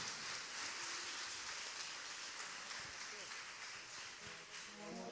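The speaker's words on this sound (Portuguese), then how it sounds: "Dê um forte aplauso, querido, por essa liderança" Applause from a church congregation at an evening service, a dense, steady patter of clapping lasting several seconds at moderate distance, filling the room without a clear break.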